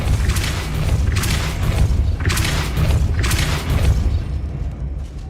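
Depulso spell cast repeatedly in the Hogwarts Legacy video game, four loud whooshing booms in a steady rhythm over a low rumbling backdrop.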